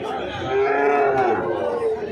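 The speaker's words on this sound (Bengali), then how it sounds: "গরুগুলো আপনাদেরকে দেখাই।" A cow at a cattle market moos in one long, drawn-out low call, fairly close, with faint crowd chatter in the background.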